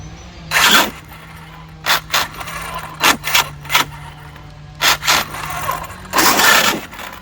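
A small electric motor in a faulty RC truck, a Mojave, buzzes in short, uneven bursts of harsh whirring and grinding over a steady low hum, sputtering on and off irregularly.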